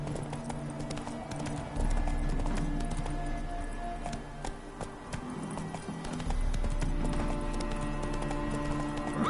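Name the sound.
horse Roach galloping in video game The Witcher 3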